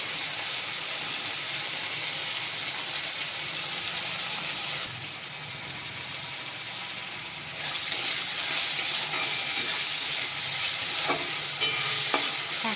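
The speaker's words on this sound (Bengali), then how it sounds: "এখন আমি এটা নেড়ে চেড়ে একটু ভেজে নেব" Flattened rice (chira) is stirred and fried in a pan for a chira pulao, giving a steady close sizzle with repeated scraping, clicking stirs that grow busier and louder in the second half, with no talk.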